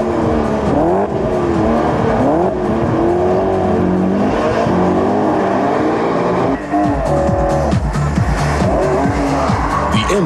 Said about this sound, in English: The M3 displays its good handling characteristics on the test track, particularly in wet conditions.